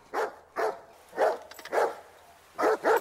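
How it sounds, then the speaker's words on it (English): A dog in a movie barks repeatedly, about six sharp, loud barks spaced unevenly with quiet gaps between them, close and clear over a low steady hum. "Dog's barking again."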